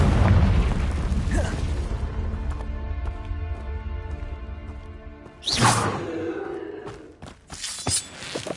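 A Confringo spell blast in Hogwarts Legacy: a heavy boom with rumbling debris at the start fades out, then a second sharp burst with a whooshing crackle lands midway, followed by scattered smaller pops and clinks.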